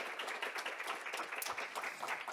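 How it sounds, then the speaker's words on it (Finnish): A seated audience at a panel discussion claps the panelists onto the stage, an even, fairly quiet wash of many hands clapping continuously with no voices over it. "voitaisiko taputtaa kaikki heidät lavalle samalla kertaa?"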